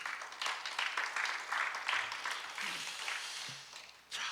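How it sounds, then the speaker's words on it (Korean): A Korean church congregation gives a big round of applause to God after a dawn prayer service, producing a moderate, roomy burst of clapping that thins out toward the end before a brief low voice returns. "하나님 아버지께 큰 박수로."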